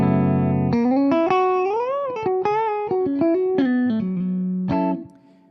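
PRS Modern Eagle V electric guitar played with all three pickups engaged, a sustained clean-to-driven melodic line of bends and picked notes, loud and alone, fading out at the end.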